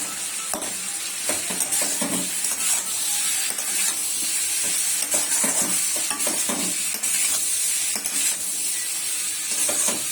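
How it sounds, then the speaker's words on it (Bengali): Potatoes frying in a pan tempered with cumin seeds and two dried red chilies give a steady sizzle, broken by the repeated scrape and clatter of a spatula stirring, close and alone with no talking. "একটু জিরে আর দুটো শুকনো লঙ্কা দিয়েছি ফোড়নে। তারপর আলুটা দিয়েছি ভাজতে।"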